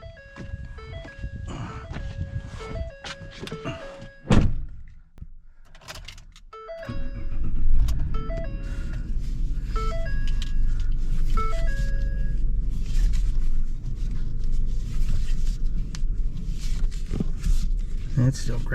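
A 2013 Ford F150 pickup's engine is cranked and fires up, then settles into a steady low rumbling idle, close and loud; keys and footsteps are heard before, with people talking at times.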